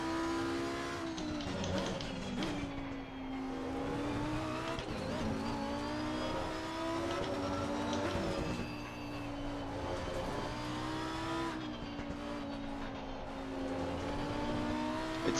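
A Lamborghini Huracán EVO race car in Assetto Corsa Competizione at the Hungaroring screams through gears, its engine rising and falling in repeated revving sweeps with brief tyre noise, loud and continuous throughout.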